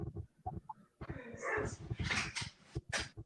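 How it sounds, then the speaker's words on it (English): A dog disturbed by wind during a storm whimpers and yips indoors, a string of short, fairly close whines and barks coming in quick uneven bursts. "That's my dog. Sorry."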